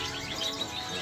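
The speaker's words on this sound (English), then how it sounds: "Different kind of birds." Many different birds chirp at once inside a pet store, a dense, steady chorus of overlapping high tweets filling the whole brief moment without any talking.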